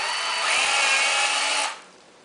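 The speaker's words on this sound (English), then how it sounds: "We're going to drill a hole right where that little metal ball is at." A power drill whines steadily at high pitch as it bores a hole into the metal of a Thermacell, close and loud, then cuts off abruptly near the end.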